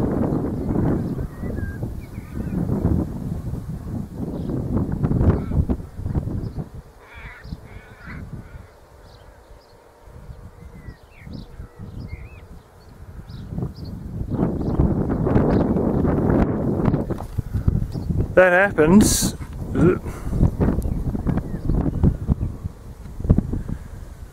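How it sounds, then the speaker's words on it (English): Heavy wind buffets the microphone in loud gusts, with crows cawing in the background and a brief spoken remark, while kestrels attack eagles. "Windy as hell."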